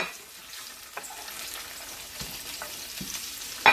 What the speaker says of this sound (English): I'm gonna let the onions cook down